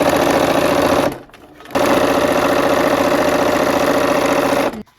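A sewing machine stitches quilt pieces with a loud, fast, even mechanical hum, stopping briefly for about half a second before running again and halting at the end.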